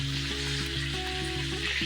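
Chicken pieces fry in oil in a pan with a steady crackling sizzle, accompanied by a constant low tonal hum throughout.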